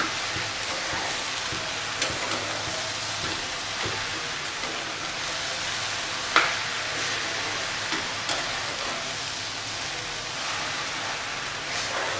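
Raw mango pieces stir-fried with sugar in a pan give off a steady, moderately loud sizzle across the whole stretch, with a few faint spoon scrapes and taps breaking through now and then.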